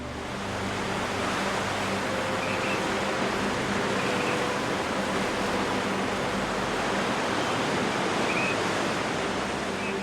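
Ocean waves breaking on a beach at a remote island camping spot, a steady, dense wash of surf noise that swells gently and stays loud throughout with no voices.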